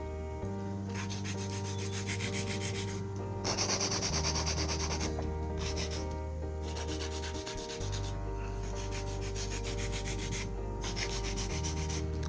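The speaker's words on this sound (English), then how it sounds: "I probably do a little bit of hand filing too." Hand filing of acrylic powder nails shaped on long tips, a steady close scratchy rasp running continuously with short strokes and brief shifts in pressure, no voices.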